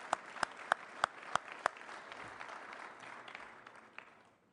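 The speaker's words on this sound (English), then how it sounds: "please give him a round of applause for his ongoing leadership." A Rotary Club of Denver audience applauds at a luncheon program, a moderate round of clapping with a few sharp nearby claps up front, then tapering off toward the end.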